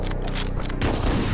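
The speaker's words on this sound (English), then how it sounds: "Only three shells in the shotgun is crazy." Shotgun blasts in the top-down action game Hotline Miami 2, a loud dense burst of booming fire crowding the short moment, with no talking.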